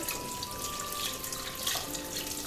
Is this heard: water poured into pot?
yes